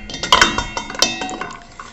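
Honey stirred into a warm sugar scrub in a bowl, a quick run of spoon clinks and gritty scraping against the dish, close and busy, fading toward the end.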